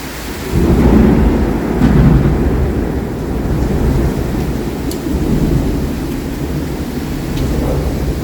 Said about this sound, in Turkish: İstanbul'da yağmur yağdığı zaman böyle yağıyor artık arkadaşlar